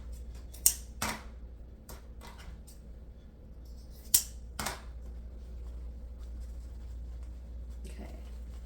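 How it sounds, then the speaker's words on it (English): Scissors cutting through wreath material while making a lemon wreath, a few sharp close snips in two pairs separated by quiet pauses, against a faint low background hum. "I'm gonna cut this back. See that right there? I'm gonna cut that off."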